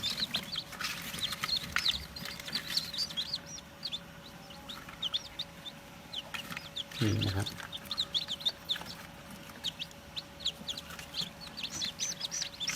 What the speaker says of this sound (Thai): นี่คือลูกไก่ตะเภาทอง